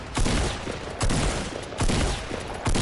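Rapid gunfire strikes the player in a first-person video game, arriving in four loud, close bursts roughly a second apart, each a dense crackling volley that ends abruptly.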